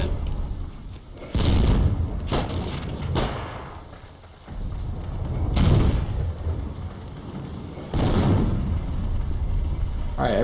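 Gunfire and explosions from the World War II shooter Heroes & Generals: heavy thuds and booming blasts land every second or two over a rumbling background, with voices talking over parts of it.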